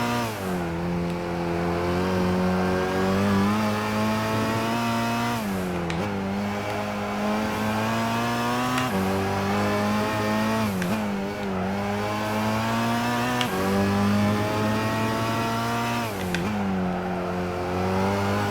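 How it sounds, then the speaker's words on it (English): A race car's engine in Gran Turismo 5 revs hard through repeated gear changes, its loud rising tone breaking every few seconds as turbo whistle and wastegate chatter burst out between shifts, with no talk. "the engine sounds I don't find particularly interesting, but the wastegate sounds, turbo sounds, it's pretty epic in this car"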